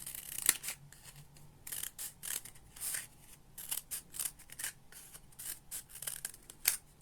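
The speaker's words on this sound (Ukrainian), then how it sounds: "і зробите ось такі надрізи широкі" Scissors snipping paper for a cut paper tube craft, a quick series of crisp, close cutting clicks in an irregular rhythm, fairly quiet with no talk.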